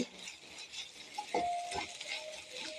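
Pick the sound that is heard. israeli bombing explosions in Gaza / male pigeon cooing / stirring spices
stirring spices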